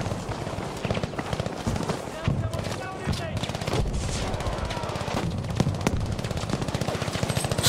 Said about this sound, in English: Somebody's already got an MG42 over here, bro